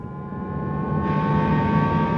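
Synthesized acceleration sound for an electric Jaguar I-Pace, a smooth rising whir-like hum that swells and brightens over about two seconds, heard alone.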